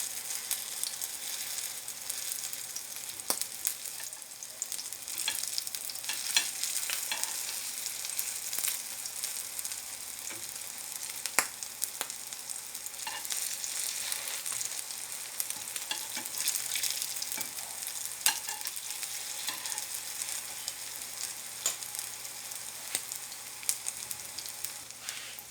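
Shrimp and squid potato fritters fry in a pan of hot oil with a dense, steady sizzle and crackle. Occasional clicks and scrapes of turning them in the pan run through it, with no talking.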